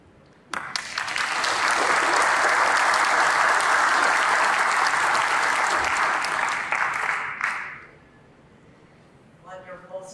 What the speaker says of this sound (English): So just another round of applause.